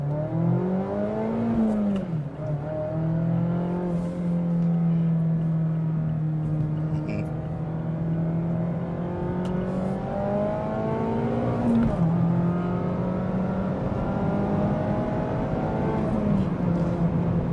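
Mazda ND3 Miata engine pulling through the gears on a highway, steady droning revs that climb and drop at each shift, heard from inside the car over road noise.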